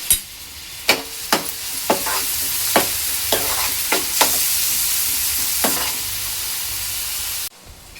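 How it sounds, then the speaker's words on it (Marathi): Onion fries in a pan for a green-masala chicken dish, with a steady bright sizzle and a series of regular spoon strikes and scrapes roughly every half second. The sound cuts off abruptly near the end, and no one talks. "कांदा चांगला मऊ होईपर्यंत शिजवून घ्यायचा आहे"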